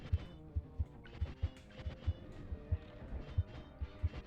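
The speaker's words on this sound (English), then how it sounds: "it's giving us, like, the heartbeat noises" A low, throbbing heartbeat warning from the video game Dome Keeper pulses steadily in doubled thumps beneath busy game sounds, fairly quiet throughout.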